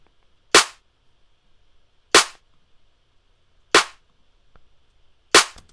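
Snare drum with boosted high EQ struck four times, sharp bright cracks evenly spaced about a second and a half apart, each decaying quickly into near silence, with no talk.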